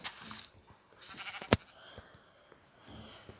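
A sheep bleats a few times amid Minecraft survival game sounds, with one sharp click or impact in the middle; no one speaks.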